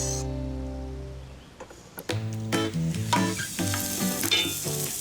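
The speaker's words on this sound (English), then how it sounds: "Get it crispy in a pan." A cornmeal-coated rainbow trout fillet crisps in a pan, a soft crackling sizzle with small pops and ticks that follows a brief stretch of steady tones.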